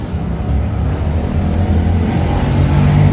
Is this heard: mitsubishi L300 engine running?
yes